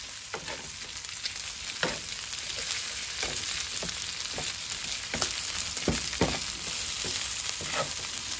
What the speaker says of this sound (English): But we're going to fry this up